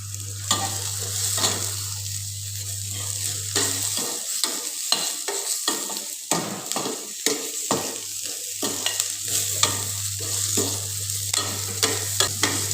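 Cauliflower fries in garlic-infused oil with a light sprinkle of salt, crackling loudly up close. Frequent sharp scrapes and knocks of a spatula break through the sizzle, with a low steady hum underneath.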